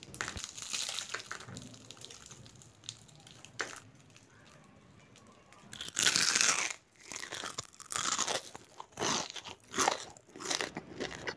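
Crisp, crackly crunching of fried, brittle green chili threads, up close, in repeated bursts growing louder toward the end.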